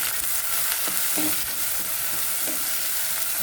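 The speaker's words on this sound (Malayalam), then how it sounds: "നമുക്ക് ഇളക്കി കൊടുക്കാം" Shallots sizzle steadily in hot oil in a small pan, with a few soft scraping knocks as they are stirred and no talking.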